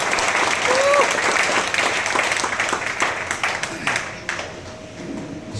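Loud, sustained applause from an audience at a business company gathering honouring a senior crown president star associate, dense clapping throughout that thins slightly toward the end, with voices mixed in.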